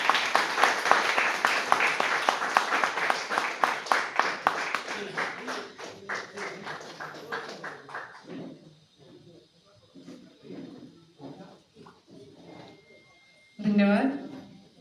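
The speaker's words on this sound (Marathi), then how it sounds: "एकदा जोरदार टाळ्या झाल्या पाहिजे." An audience applauds at a book launch ceremony, loud rhythmic clapping that gradually thins and fades after several seconds, followed by someone speaking over scattered claps.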